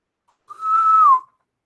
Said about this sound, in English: You hear another intercom whistle,